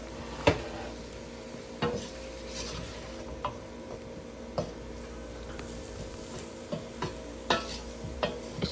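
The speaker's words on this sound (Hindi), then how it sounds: "स्पाइसी को आलूओं के साथ अच्छी तरह भून लेंगे" Spiced potato filling for vegetable samosas being stir-fried in a pan, a soft steady sizzle broken by periodic sharp spatula knocks and scrapes against the metal, close and without speech.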